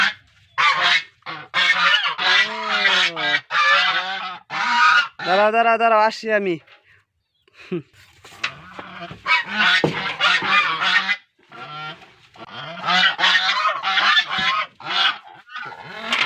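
Domestic geese on a farm honk loudly and repeatedly at close range, harsh calls in bursts while a person talks over and between them.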